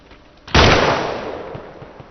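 Single loud, sharp sniper rifle shot in the video game ARMA 2, a sudden crack followed by a long rolling echo that fades over about a second and a half.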